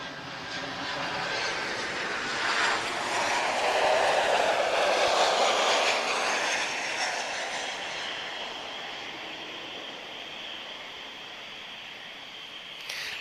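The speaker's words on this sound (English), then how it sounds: "We've got an A321 Neo here, so we're going to end on that today." Airbus A321neo jet at Lisbon Airport, a broad steady roar that swells toward the middle and slowly fades, heard at a distance with no talking.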